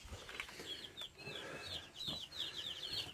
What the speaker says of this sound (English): Also go down here and check on these baby chicks